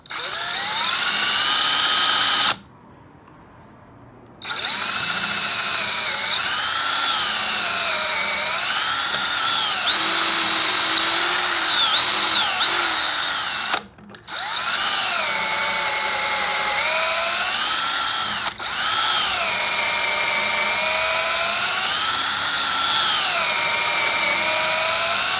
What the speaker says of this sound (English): I'm only going to drill through halfway, and then I'll come around the other side and drill from that side.